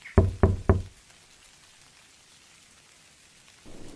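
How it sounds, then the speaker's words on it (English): Three quick, evenly spaced knocks on a wooden door sound close and clear, then a soft patter of rain fills the quiet that follows, with a faint swell of noise at the very end. "A quiet knock."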